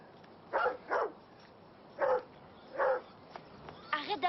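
A dog barks in a series of four distinct woofs spaced about a second apart, clear and nearby, with a faint whine or yelp at the end.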